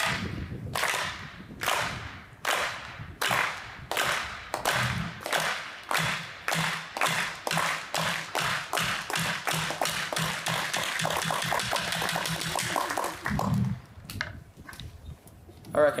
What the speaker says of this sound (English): just make sure you're clapping in time with the beat